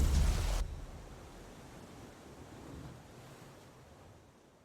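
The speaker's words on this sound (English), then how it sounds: "The sea was restless, waves slamming against the hull as you left the island asylum behind." Restless sea waves wash against a sailing boat's hull in the video game Tainted Grail, opening with a loud crashing surge that quickly drops to a steady, low rushing wash of water and wind.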